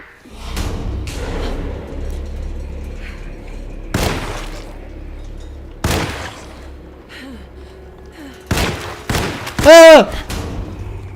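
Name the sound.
gunfire in Alone in the Dark video game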